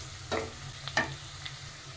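Onions with turmeric are stirred in a pan over a low sizzle, with a few distinct scraping and tapping strokes of the spoon standing out clearly.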